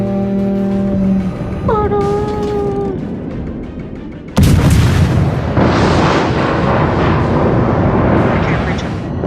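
Naval gunfire in World of Warships, a sudden heavy boom followed by sustained rumbling blasts, loud and close, after a voice talks over the first few seconds.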